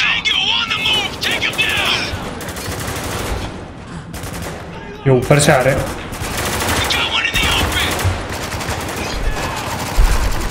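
Rapid bursts of gunfire in the video game Spec Ops: The Line, with shotgun blasts and automatic fire, under excited talking from a player.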